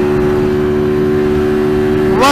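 An Apache RTR 200 motorcycle engine drones loud and steady at high revs on a highway during a top-speed run, holding a constant pitch before a brief rising shift toward fifth gear at the end.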